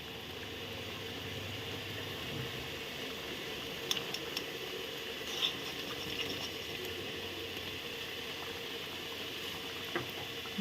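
Moong dal boils in a pot as ghee goes in, a steady faint bubbling hiss with a few soft clicks and taps, with no voices.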